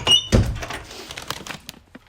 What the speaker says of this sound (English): the door ain't closing